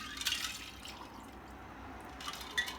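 Vodka pouring softly into a rocks glass, a faint continuous trickle with slight splashes at the start and end.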